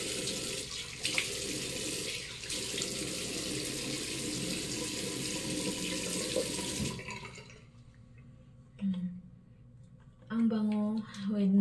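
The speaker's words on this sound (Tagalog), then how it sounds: "Maghugas muna tayo ng ating mukha." Tap water running steadily into a sink while someone washes their face, a continuous close hiss for about seven seconds that then stops, followed by soft handling sounds and someone speaking.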